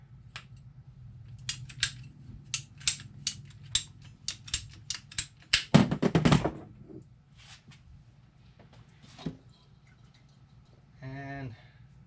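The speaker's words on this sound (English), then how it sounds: "we're just going to cut a little piece to go ahead and fit these together." Plastic condensate tubing for a Rinnai on-demand water heater neutralizer kit is cut, heard as a run of sharp, closely spaced snips and clicks, with a louder crunching cut in the middle and quiet handling noise afterward.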